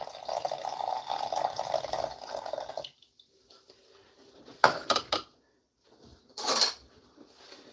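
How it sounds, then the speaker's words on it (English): Cold water poured onto a sugar and yeast mixture for fried bread dough: a steady liquid pour for about three seconds, then quiet, followed by a couple of short splashy clinks and a brief final burst. "I'm going to pour that directly onto our sugar and yeast mixture."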